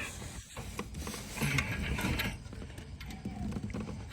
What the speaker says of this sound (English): I use the breaker bar